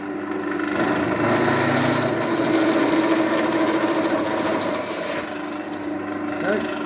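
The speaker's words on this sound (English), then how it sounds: "That'll just slow the drill down, so I'm going to bring it back to about 9 or 800." A drill press boring an 8mm hole with cutting oil while building a mower racer front end, slowed to around 900 rpm, giving a steady loud grinding whir that eases slightly near the end.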